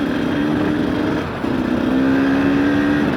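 Idling KTM 300 XC 2017 two-stroke dirt bike, the last carbureted model, running steadily with a brief dip then a slight rise in revs, close and loud with no talk over it.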